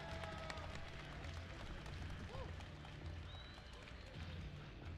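Applause from a live audience at an EVO fighting-game showcase panel for the Invincible Versus team, a dense, steady patter of clapping and crowd noise filling the room, with faint voices mixed in.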